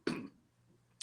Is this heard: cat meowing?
no